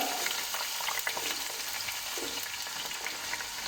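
Chopped onion, one large onion, frying in hot oil over a medium flame, a steady close sizzle with occasional stirring scrapes running throughout.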